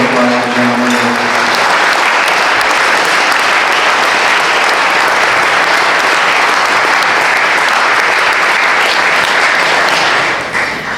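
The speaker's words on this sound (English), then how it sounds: "let's have a big round of applause for John Morgan" Loud, sustained audience applause for John Morgan at a senior games banquet, a dense crowd clapping steadily for about ten seconds before tapering off.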